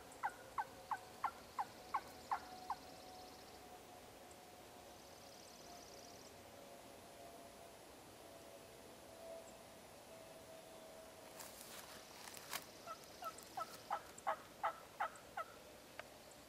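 A wild turkey gobbles in the Idaho woods during a spring hunt, with repeated rattling gobble bursts heard at a distance, a cluster at the start and another near the end, over faint outdoor ambience.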